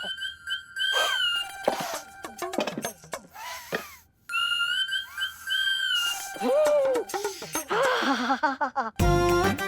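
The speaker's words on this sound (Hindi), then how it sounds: "ये तो कुकर की सीटी है।" A pressure cooker whistle sounds in a home kitchen setting, with several shrill, wavering tonal bursts rising and falling among other bright effects, fairly loud and close, with a brief pause of near silence in the middle.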